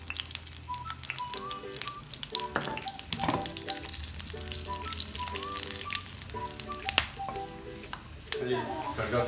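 A tadka of whole cumin, nutmeg and mace sizzles steadily in hot oil for Kashmiri daal, a soft continuous frying hiss with faint stirring beneath quiet background music.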